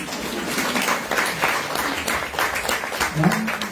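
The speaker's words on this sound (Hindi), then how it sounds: "अपने के लिए ताली बजाना प्लीज" Audience clapping at a satsang gathering, dense and continuous with uneven surges, a voice briefly rising near the end over the noise.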